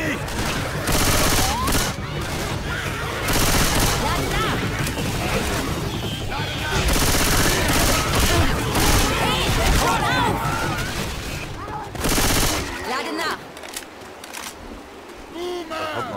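Rapid gunfire bursts and volleys from the zombie shooter Left 4 Dead 2, loud and close, rattle through most of the stretch while players talk excitedly over the shooting, which then thins out near the end.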